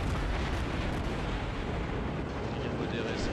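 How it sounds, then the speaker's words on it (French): Naval guns firing in the World of Warships video game, a dense continuous rumble of heavy cannon blasts and booms held at a steady level throughout. "ça m'a déjà tiré dessus là par exemple"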